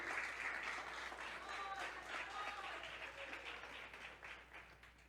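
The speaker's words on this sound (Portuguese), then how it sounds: "Você pode aplaudir o Senhor?" A church congregation applauds in praise during a service, a faint, steady wash of clapping heard from a distance that holds for several seconds before easing slightly at the end.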